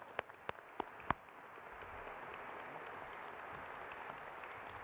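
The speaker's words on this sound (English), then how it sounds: "Round of applause for Richard." Applause from a large audience at the Illinois Tech 2023 commencement ceremony, honoring a law professor: a few sharp, separate claps at first, then a steady, fairly soft wash of clapping that holds for several seconds.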